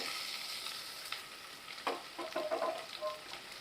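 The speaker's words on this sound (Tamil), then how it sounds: "ஒரு பெரிய வெங்காயம் வெட்டி வச்சுருக்கேன் அதை நான் சேர்த்துக்கிறேன்" Chopped large onion drops into hot oil already crackling with curry leaves for Chettinad chicken masala, giving a steady close sizzle with bursts of sharper frying and stirring scrapes.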